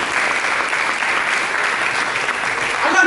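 During a church service the congregation applauds for Jesus, a sustained wash of many hands clapping at a steady loud level and swelling slightly at the end.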